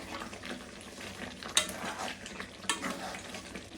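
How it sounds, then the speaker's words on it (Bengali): A spoon stirs chicken korma in a pan with ghee and fried onions, giving soft scraping and sizzling under a steady frying hiss, with a couple of sharper clinks of utensil against the pan. "এখন এগুলো নেড়ে চেড়ে মিশিয়ে দেবো।"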